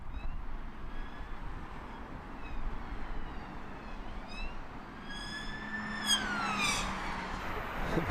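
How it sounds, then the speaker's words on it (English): Emergency vehicle siren at Heathrow Airport during an evening of plane spotting, a rising and falling wail starting faint and growing louder past the middle, over a steady roar of airport background noise. "There's our customary lights and sirens."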